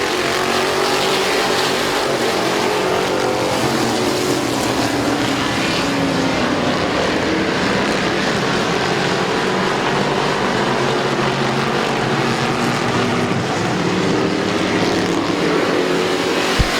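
Race cars roar at full throttle around Midvale Speedway after the green flag, a dense, steady engine drone with no pauses.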